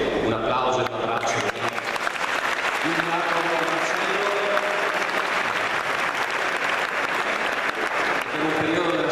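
Sustained loud applause from the audience at the Veneto basketball gala, steady and dense throughout, with a voice speaking over it.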